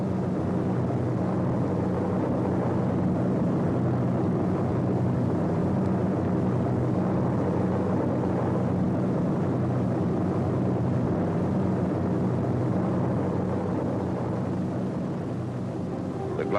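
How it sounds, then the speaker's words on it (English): Tow planes pulling gliders during the D-Day invasion of Normandy, a steady, dense droning roar of aircraft engines that holds unbroken and fairly loud throughout. "The gliders cut loose from their tow planes."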